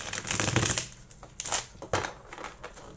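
Tarot cards shuffled by hand in a few quick riffling bursts, with loud crisp flutters and slaps near the listener and short pauses between.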